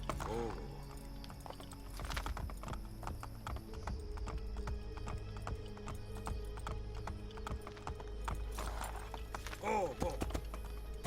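Horse hooves clip-clopping in Assassin's Creed Brotherhood as a horse is ridden indoors: a continuous run of crisp, rhythmic hoof strikes at moderate volume, with brief whinnies near the start and end and someone talking over it.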